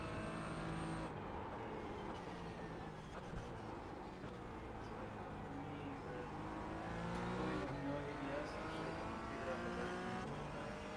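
Porsche 718 race car engine at VIR in the iRacing sim, a quiet, steady engine drone whose pitch sweeps up and down through gear changes and revving, with no speech over it.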